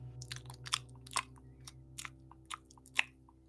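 A voice imitates a creature chewing on something, producing soft, irregular wet crunching and clicking mouth sounds over a low steady hum, close and fairly quiet.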